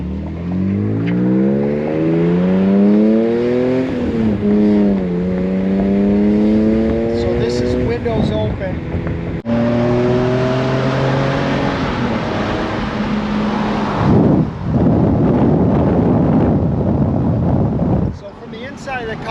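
A BMW M3 with a new exhaust revs repeatedly, pitch climbing and falling with each push, then a deeper roar and a broadband rush as it pulls away, loud and close.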